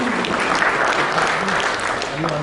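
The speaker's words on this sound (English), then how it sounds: "A round of applause for Mr. Agarwal." A crowd at a banking and financial technology conference applauds a government official called to the stage, a loud, continuous spread of clapping with faint voices murmuring beneath it.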